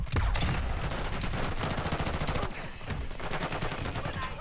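A Basilisk gun fires in a video game, producing a rapid string of sharp, loud gunshots in bursts with a short pause in the middle before shooting resumes.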